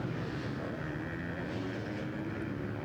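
A motocross motorcycle engine during a 2018 Loretta Lynn's amateur national race holds a steady, droning rumble as bikes run through sand and whoops, distant and continuous without a clear pass-by peak.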